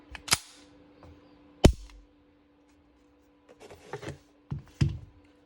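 Someone checks that a Springfield Prodigy 1911 pistol is clear, handling the slide with several sharp close metallic clicks and clacks separated by pauses, a louder snap near the start and a cluster of clicks at the end.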